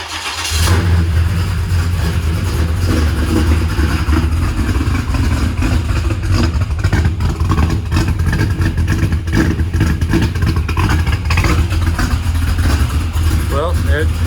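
An old engine in a workshop, running on a weak battery, catches and runs loud and steady, its rough mid-pitched roar rising with revs and filling the space without a break.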